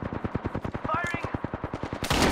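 Rapid automatic gunfire in Apex Legends, a steady rattling burst of evenly spaced shots fired up close, ending in a sharper, noisier blast.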